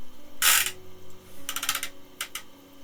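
Ratcheting joints of a large Transformers Legacy Metroplex toy figure, giving bursts of crisp plastic clicks: one longer burst, then a rapid cluster and a short final pair, close and clear with no speech.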